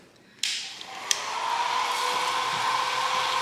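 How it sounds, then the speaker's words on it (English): A hair dryer on the cool setting switches on abruptly and runs with a steady, close whooshing hum that holds for several seconds. "my last recourse is, you guessed it, a hair dryer. And I'm going to put it on the cool setting"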